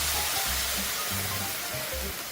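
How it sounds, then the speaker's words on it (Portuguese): Homemade beef broth is poured into a hot risotto pan on medium-high heat, giving a close, continuous hissing sizzle with low gurgles beneath it. "Agora eu vou colocar uma água que é feita de caldo de carne."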